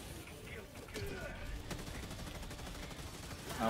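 SMG gunfire in the Helldivers 2 video game: a dense, steady wash of rapid shots and battle noise running throughout, with a voice talking over it and a louder surge at the very end.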